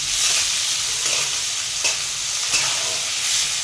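Onion, tomato and peas sautéing in a pan for masala Maggi, a loud, continuous hissing sizzle with a few faint scrapes of stirring, no voices.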